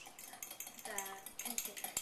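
An egg beaten with a utensil inside a container for a pie crust, rapid light clinking and tapping against the sides in a quick steady rhythm, close and fairly quiet.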